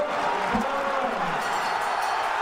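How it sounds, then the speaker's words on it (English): A boxing crowd in Sheffield roars steadily on its feet in a large arena, a loud, dense wash of cheering with no breaks and a voice briefly audible over it. "the crowd in Sheffield on its feet"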